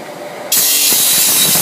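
A golf club shaft has its butt end cut with a powered cutter, a harsh, high-pitched grinding whine that starts abruptly and holds loud and steady to the end.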